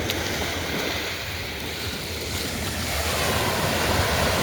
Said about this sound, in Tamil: கடல் பாருங்க அப்படி அடிக்க சத்தம் தான் கேட்கும்